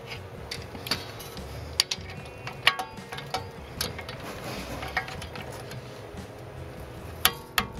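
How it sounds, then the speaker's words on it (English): A torque wrench tightens bolts on motorcycle mounting sliders, giving scattered sharp ratcheting clicks and metallic ticks over a low background hum, close to the microphone with no talking. "so I could torque this down without it moving too much on me."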